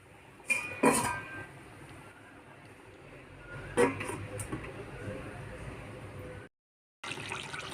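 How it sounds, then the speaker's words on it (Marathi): A lid comes off a pan of simmering Maharashtrian brinjal curry (vangyachi bhaji): a couple of sharp metallic clinks near the start, another clatter a few seconds later, over a low kitchen hum. "झाकण काढले"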